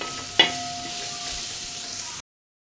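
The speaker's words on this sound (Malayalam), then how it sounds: "ഇനി നമുക്കിതിനെ നന്നായിട്ടൊന്ന് വഴറ്റിയെടുക്കാം." Beef curry ingredients sauté in a hot pan with a steady, close sizzle and a sharp clink of a utensil near the start before the sound cuts off.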